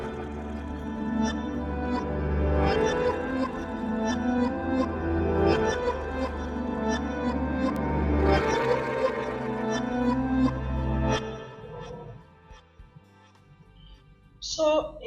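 Reversed Chinese guzheng samples, one pitched down and one pitched up, play together in a beat. A dense, swelling layered texture with steady low bass sustains for about twelve seconds, then thins out before a brief bright burst at the end.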